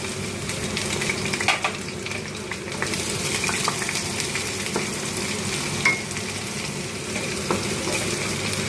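Chopped onions fry in hot oil after five-spice tempering for a bottle gourd and prawn dish, a loud continuous sizzle with stirring scrapes, close and without talk.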